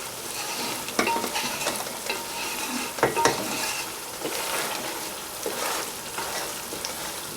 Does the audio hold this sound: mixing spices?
yes